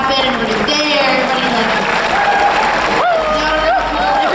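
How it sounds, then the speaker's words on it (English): Audience applause at the Bronycon 2018 closing ceremony, a loud sustained roar of clapping from a large crowd with voices and music-like tones rising over it. "Really, really, really big round of applause to everybody working behind the scenes"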